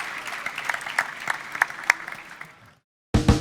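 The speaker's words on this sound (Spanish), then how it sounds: "Otro aplauso y gracias por asistir." Audience applause at the close of a talk on carbon dynamics in a conference hall, a steady patter of many hands that fades out, then a brief silence before a sharp, loud burst of new sound.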